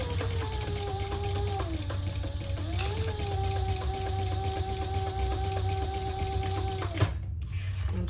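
A sewing machine runs steadily for about seven seconds, joining fabric pieces at the seam allowance for an enlarged crossbody bag, its whirring motor shifting pitch slightly before stopping abruptly with a soft clunk.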